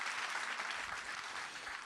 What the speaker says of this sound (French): Applaudissements plus forts.